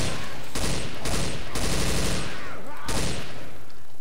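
Rapid bursts of automatic gunfire from a Counter-Strike rifle in Left 4 Dead 2, loud and close, coming in several volleys separated by brief gaps.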